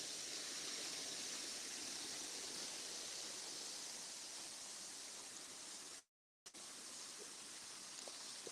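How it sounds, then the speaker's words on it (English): Steady broadband rush of flowing water from a fairly full stream or small waterfall on a countryside walk, continuous and close, with a brief dropout near the end. "There's quite a lot of water in this one too"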